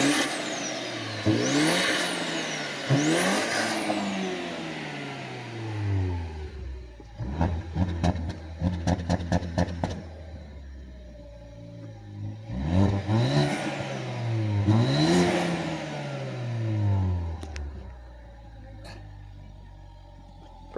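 A 2018 Ford F-150 pickup engine with stock exhaust revs up and down several times, a deep rumbling exhaust rising and falling, with a rapid clattering idle in between.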